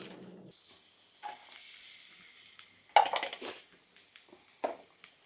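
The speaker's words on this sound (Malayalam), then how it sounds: "നമ്മൾ നല്ല പോലെ ബട്ടർ ഒന്ന് മെൽറ്റ് ചെയ്ത് കഴിയുമ്പം നമുക്ക് അരിഞ്ഞു വെച്ചിരിക്കുന്ന സവോള ചേർക്കണം" Chopped onions hit melted butter in a pan for paneer butter masala, giving a sudden burst of hissing sizzle that fades into quieter, intermittent crackles and a few soft clinks.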